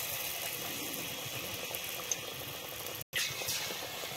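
A battered potato chop fries in hot oil with a dense, even bubbling hiss that holds steady throughout, cut briefly by a short dropout near the end, with no voices.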